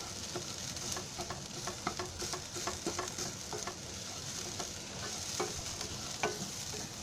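Chopped onion dry-roasting without oil in a pan for an oil-free aloo matar bhaji, with a steady soft sizzle and repeated scraping stirs that click and rasp close by throughout.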